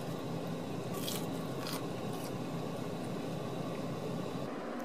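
Crinkle-cut french fries from Shake Shack are bitten into, a few soft crunchy bites close to the mic against a steady noisy room background.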